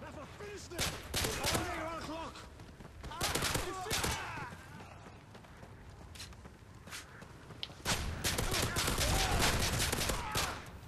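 Pistol shots fire in bursts during a Modern Warfare 3 Survival match, sharp cracks clustered in rapid volleys with quieter gaps between them, while a player talks over the action.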